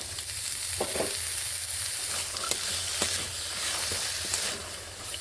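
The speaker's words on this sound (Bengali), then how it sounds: "এবার মশলার সঙ্গে সবগুলোকে বেশ ভালোভাবে কষিয়ে নিচ্ছি" Soaked chickpeas, coriander leaves and spices being stir-fried together in a pan for a pumpkin curry, giving a continuous soft sizzle and hiss with occasional light stirring scrapes, moderately quiet, with no voices.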